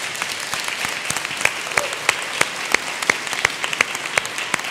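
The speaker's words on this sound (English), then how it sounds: "Can we give all of our panelists a round of applause?" Audience applause for a panel at a faith and spirituality event, steady clapping throughout with a few sharp close claps standing out above the crowd.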